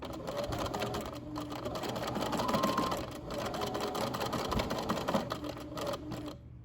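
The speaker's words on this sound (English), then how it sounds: "When I am complete with pinning, I will bring it to the machine and stitch it together." A sewing machine stitches steadily for several seconds while sewing box pleats on a maxi skirt, its rapid rhythmic needle chatter continuous and close, with brief pauses near the end.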